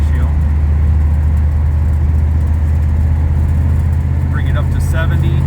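A car with a swapped 2004R transmission in overdrive and a 3.42 rear axle cruises at 65 mph near 1900 RPM, producing a loud, steady low engine and road drone while someone talks over it.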